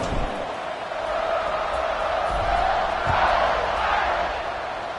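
Large stadium crowd at a Wake Forest versus Notre Dame college football game, a sustained roar of cheering that swells steadily before a kickoff, broad and distant, under faint commentary.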